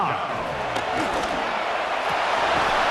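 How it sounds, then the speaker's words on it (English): Stadium crowd in the Madden NFL 26 football video game, a steady loud roar that swells during a third-down play under continuous commentary. "This crowd trying to be a factor, getting very loud now."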